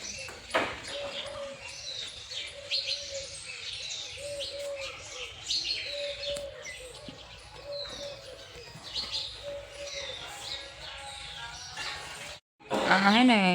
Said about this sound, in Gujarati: પંખીનો ટણ કલરો ચાલુ છે